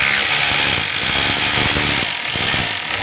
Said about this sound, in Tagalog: So iti-testing na po natin. Testing natin sa drill.